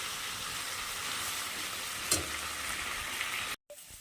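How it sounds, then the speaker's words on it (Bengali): Steady, even sizzling of cabbage frying in a pan, with one brief clatter midway and a sudden cut near the end. "আর এই যে বাঁধাকপি ভাজা হচ্ছে"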